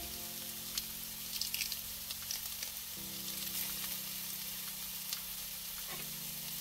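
Split peas fry with crushed garlic and onion in a pan, giving a steady soft sizzle with light crackles and a faint low hum, with no talk.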